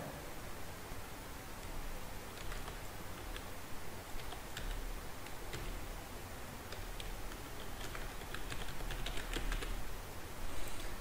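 Computer keyboard keys are typed in quick, irregular bursts of soft clicks over a steady background hiss, faint and close, with no voices.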